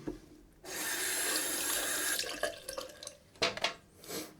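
Hot water running from a tap into a sink to warm a razor before shaving a head, a strong splashing burst of about a second and a half, then water broken up by clinks and handling noises.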